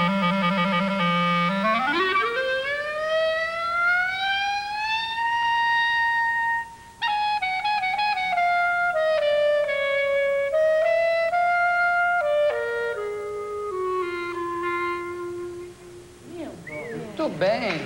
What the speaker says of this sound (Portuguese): Clarineta ou clarinete, né? É um instrumento maravilhoso.